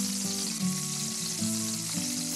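Chopped onion frying in coconut oil with popped mustard seeds and curry leaves, giving a steady close sizzle over faint low music.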